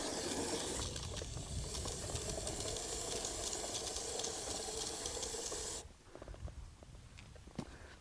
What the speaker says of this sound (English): I'm going to add more water in here and turn my sprayer up to kind of get it stirred up